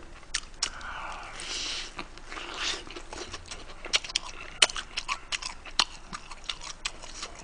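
Close, crunchy biting and chewing of a BHC Bburinkle fried chicken thigh, with irregular sharp crackles and soft smacking noises that continue steadily and grow denser toward the end.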